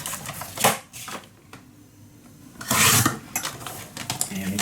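Paper being cut down to size for a handmade craft folio page, a few crisp scraping cuts with a short bright burst near the start and a longer, louder one about halfway through, close up with no talk.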